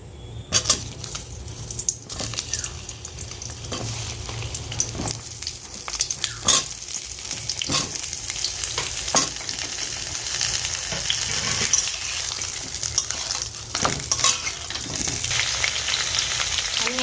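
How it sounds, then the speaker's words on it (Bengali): Pointed gourd (potol) pieces frying in hot oil in a wok make a steady close sizzle, broken by scattered sharp clicks and taps of stirring, with no talk. "কড়াইয়ের মধ্যে আমি তেল দিয়ে দিচ্ছি পটলটা ভেজে নেব এই তেলেতে"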